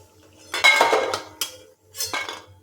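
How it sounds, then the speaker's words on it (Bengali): Fried lentil dumplings (bori) are lifted out of hot oil with a metal utensil, giving three short bursts of scraping and clinking against the pan, fairly close, with faint sizzling between and no speech. "এখন বড়িগুলো তেল থেকে তুলে নিতে হবে।"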